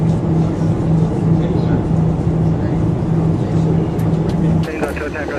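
Airliner engines spooling up for a takeoff roll in rain, heard from inside the cockpit as a loud, steady roar with a droning hum, under pilot and radio talk.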